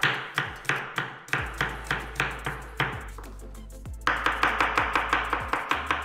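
A kitchen knife chops a halved shallot on a cutting board in rapid, steady strikes, close and crisp, with no talking.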